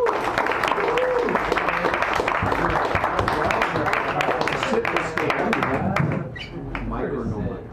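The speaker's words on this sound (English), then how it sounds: "Give them a big, warm round applause for Brian." Open mic crowd at a San Francisco cafe applauding a newcomer, a dense, loud wash of clapping for several seconds that tapers near the end, with some voices mixed in.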